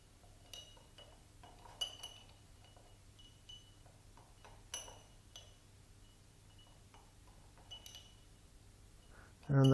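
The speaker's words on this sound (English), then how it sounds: "So you drop the mothball into the petrol. Give it a bit of a stir." Faint clinks of a utensil against a glass as a mothball is stirred in petrol, light taps spaced irregularly over a quiet background, with a louder bump at the very end.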